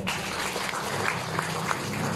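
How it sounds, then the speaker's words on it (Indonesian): An audience at a talk on Jakarta's sports facilities applauds steadily, a continuous wash of clapping that holds at an even level throughout without any voices over it. "Tepuk tangan dong."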